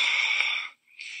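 A voice imitates a snore with one breathy, wheezing inhale, a brief pause, then a shorter second rasp.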